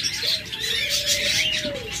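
Lovebirds and budgerigars in a bird shop chirp in a steady, busy chorus of high twittering calls, with a thin sustained whistle running beneath, close and continuous without talk.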